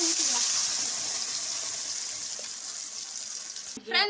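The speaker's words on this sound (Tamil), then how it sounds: "தாளிச்சாச்சு" Mustard seeds and curry leaves crackle in hot oil as a tempering for radish chutney, a loud close hiss that slowly fades, then a brief voice speaks at the end.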